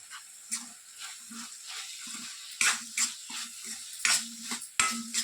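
Brain fry with coconut powder is stirred in a pan, with repeated scraping strokes of a spatula over a soft sizzle, irregular and close, each stroke rising and falling.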